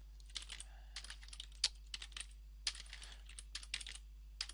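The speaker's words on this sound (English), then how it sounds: "Let's try and type properly." Rapid, uneven bursts of typing on a computer keyboard, clicks clustering in quick runs with brief pauses, fairly close and clear over a steady low hum, no voices.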